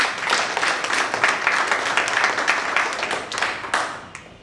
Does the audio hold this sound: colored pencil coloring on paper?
no